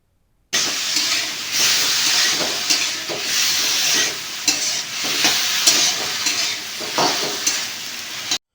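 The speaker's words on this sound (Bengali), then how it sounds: "যেটা শিলনোড়ায় বাটা হয়েছিল সেই মশলাটা দিয়ে আবারও ভালো করে নাড়তে হবে" Pumpkin vines and vegetables are stirred in a hot pan with stone-ground spice paste, giving a loud continuous sizzle and hiss broken by repeated scraping stirs, close up with no talking.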